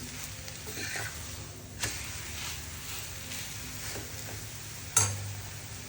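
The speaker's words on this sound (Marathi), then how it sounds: "छान सोनेरी कलर येईपर्यंत भाजायचे आपल्याला हे मस्त" A thin besan flatbread roasting in oil on a pan, giving a steady soft sizzle and hiss throughout, with a couple of faint clicks and one sharper tap near the end, close and low in level.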